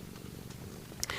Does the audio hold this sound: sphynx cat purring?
yes